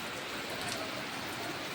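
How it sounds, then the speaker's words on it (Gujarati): Rain falling outside a home, a soft steady hiss of drops on surfaces, heard faintly and evenly throughout with no voices. "હવે બહાર ચાલુ થયો છે વરસાદ."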